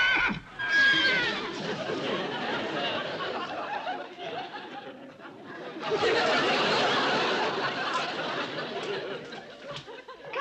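A horse whinnies and snickers in long, shaky bursts, loud and close, one neigh running into another with a short pause between.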